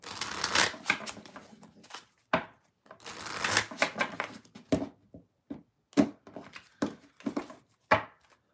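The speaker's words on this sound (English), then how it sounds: "As I do my shuffle." Tarot cards are shuffled in quick riffling bursts separated by short pauses, with crisp flicks and taps close to the microphone, and no talking.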